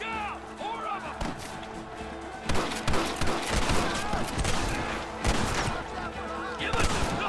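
Volleys of rapid gunfire from the Western shooter game Red Dead Redemption crack and thud in close, irregular bursts beneath urgent shouting voices.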